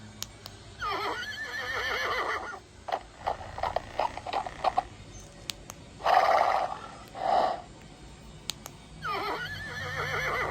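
Several high, wavering electronic horse whinnies from a Toy Story Bullseye horse toy, separated by clicking and clattering sounds, fairly close and moderately loud.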